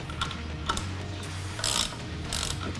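A ratchet wrench with a 21mm socket clicks in short bursts while the axle nuts on a golf cart's rear wheel are tightened, with several rapid ratcheting runs separated by brief pauses, close and clear.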